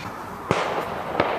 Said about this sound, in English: Someone's setting fireworks off already